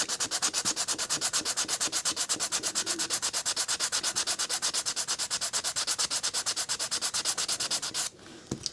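Steady, rapid rhythmic rasping of a sander working on wooden model ship ribs, loud and close, running continuously before stopping abruptly near the end.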